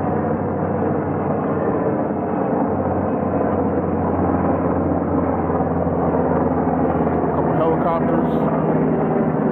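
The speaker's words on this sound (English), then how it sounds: "Helicopters." Helicopters fly overhead near a military base, a loud steady rotor rumble and drone that fills the whole span with little change, heavy and continuous.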